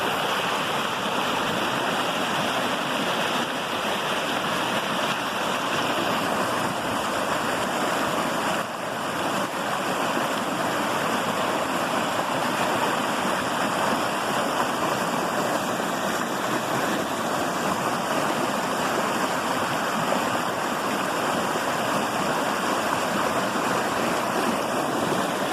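A brook pours over a small natural dam about two feet high, built up from rocks, sticks and leaves. The water gives a steady, full rush with no pause, close and loud, and no one speaks.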